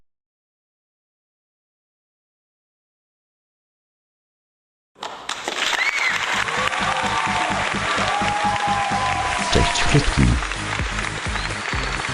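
After several seconds of silence, a studio audience on a Big Brother-style elimination show breaks into steady applause, with a voice speaking over the clapping.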